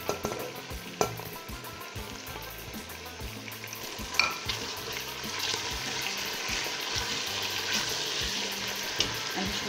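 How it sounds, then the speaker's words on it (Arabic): Champignon mushrooms frying in a pan with chopped parsley tossed in, a steady close sizzle and crackle with occasional stirring scrapes and clinks throughout. "أنا راني خليت الشامبينيون شوفو لازم يتقلى شوية نرمي عليه المعدنوس تاعي اللي قطعتو"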